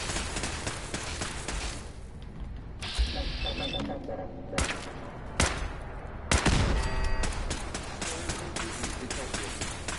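Rifle fire and weapon handling from the video game Fallout 4, with sharp shots, mechanical clicks and ratcheting sounds spread across the stretch, under occasional talk.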